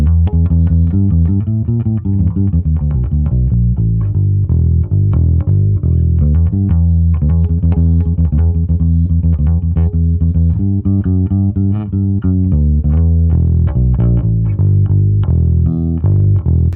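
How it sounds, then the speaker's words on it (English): A bass guitar plays a steady, rhythmic line through a circa-1977 Music Man 65 tube bass amp head, slightly gritty and overdriven, loud and continuous with no voices. "You hear a little bit of distortion in there. This head is always a little gritty, a little dirty"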